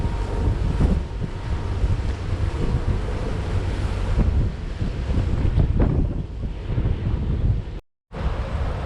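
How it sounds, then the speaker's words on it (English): Steady, blustery wind roars across the microphone on a harbour boat in Sydney, with low rumble of water and hull beneath, continuous and loud, dropping out briefly near the end. "so it's a little bit less windy now."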